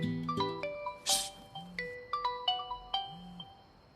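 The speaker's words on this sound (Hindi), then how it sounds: "किसका फोन है बे?" A phone ringtone plays a bright, repeating electronic melody of tones with short gaps, sounding clearly and alone in a quiet room at night.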